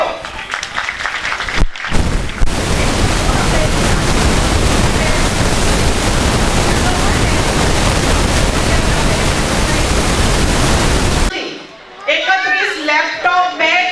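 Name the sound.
loud audience applause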